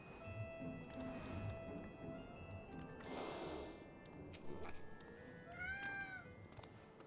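A cat meows a few times in Final Fantasy XIV, fairly faint against soft background music and ambient game sound, the calls short and rising.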